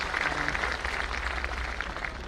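An audience at a memorial-day event in Gurugram claps steadily for a revered spiritual leader, a dense, even wash of applause from a large crowd with no voices standing out.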